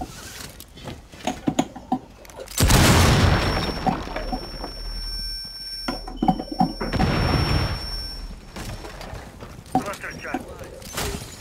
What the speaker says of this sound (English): Detonating charge.